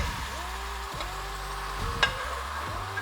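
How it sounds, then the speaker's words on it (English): Sauce for a pork chop glaze sizzling and bubbling in a pan over low heat, a steady close frying hiss with faint stirring and one brief sharper clink. "we are going to put this sauce into a pan and reduce it down for the final brush on glaze"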